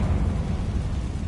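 A deep, booming blast rumbles throughout from a Confringo spell cast at a damaged bridge in Hogwarts Legacy on PS5, loud and continuous with no voices.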